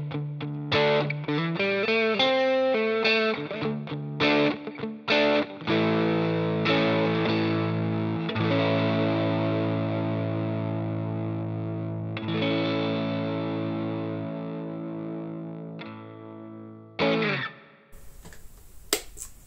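Electric guitar fitted with Scheurebe Jazzmaster pickups in the middle position, played alone with a mix of chiming chords and single notes, clear and fairly loud, with varied dynamics and a few pauses before a brief noisy burst at the end.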